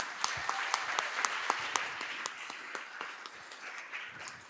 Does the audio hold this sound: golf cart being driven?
no